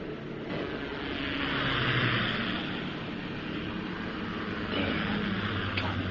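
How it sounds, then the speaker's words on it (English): Approaching helicopters make a steady, rushing rotor roar that swells slightly and holds at a moderate distance, with no speech. "There. Coming choppers."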